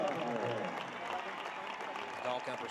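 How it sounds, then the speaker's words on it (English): Stadium crowd applauding at a 2022 NWSL professional women's soccer match between San Diego Wave and Gotham FC, a steady, fairly distant wash of clapping and crowd noise with voice-like sounds mixed in throughout. "Round of applause."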